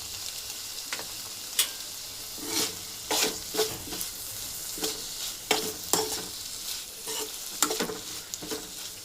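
Moong dal being stirred into ridge gourd curry in a pan, with irregular spoon scrapes and clinks spaced a second or so apart over a faint sizzle, close up.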